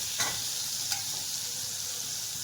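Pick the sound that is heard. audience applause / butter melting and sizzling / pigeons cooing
butter melting and sizzling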